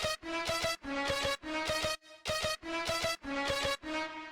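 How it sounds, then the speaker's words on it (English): Synth lead pattern built in FL Studio for a moombahton track: bright, harmonically rich stabs in repeating rhythmic bursts with short gaps between phrases, loud and dry with no voices. "I made 3 different patterns. So let's start with the first one, which is basically called lead 2."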